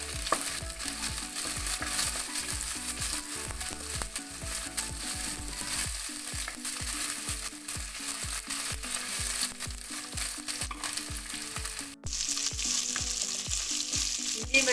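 Ginger, garlic, slit green chilies and curry leaves fry in hot oil with a dense, even sizzle, while a spoon scrapes and taps the pan in quick repeated strokes, near and steady without speech.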